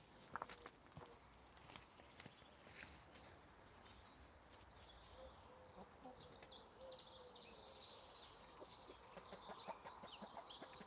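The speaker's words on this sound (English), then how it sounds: "I just got to sort this one chicken out down here because she's digging my apple tree" A hen clucks intermittently while scratching and digging into the soil under an apple tree at an allotment, close soft clucks with some rustling and footstep sounds.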